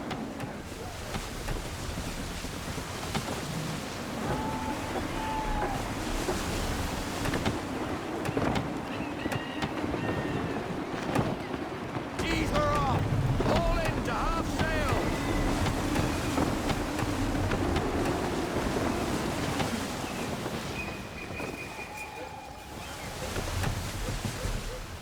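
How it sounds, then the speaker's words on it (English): Gusty wind and ocean waves rush steadily around a sailing ship at sea in the video game Assassin's Creed III, a continuous airy roar with surging swells and faint tonal game sounds over it. "Wind looks to be shifting. Stay alert, Connor. Gusty winds can be difficult to manage."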